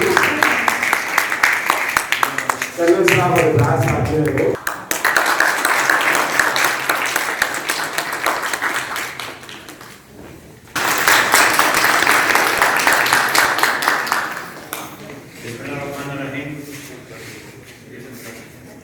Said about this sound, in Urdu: آپ کی تالیاں بند نہیں ہونی چاہیے.